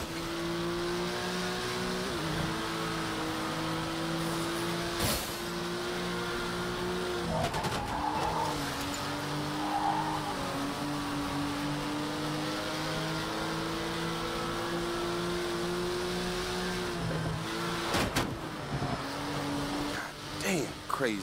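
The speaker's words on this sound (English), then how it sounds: "Driving on a cargo ship." A car being driven on a cargo ship in the Fast and Furious Crossroads video game, with a steady engine drone that rises and falls alongside occasional sharp impacts and tire noise, and people talking over it.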